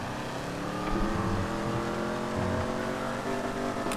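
Car engine in the FiveM driving game played with a gearshift, a steady droning motor with rising and falling tones as the car drifts, moderately loud and without talk.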